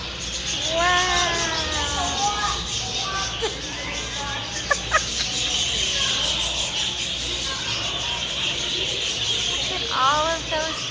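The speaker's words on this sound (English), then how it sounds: "All of those birds." Birds calling at an aquarium, a few chirping and bleating-like calls in short bursts amid constant crowd chatter and hubbub, with people talking nearby.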